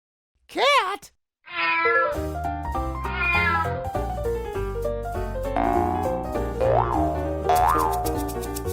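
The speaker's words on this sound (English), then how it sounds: "Cat?" A cat meows loudly once near the start, then bouncy children's music takes over, with a couple of higher yowling meow-like cries rising above it later.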